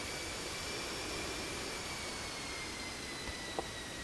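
Steady broadband drone of an Antonov An-2 biplane engine in a flight simulator game, continuous and fairly loud, with faint high whine lines and a brief click near the end.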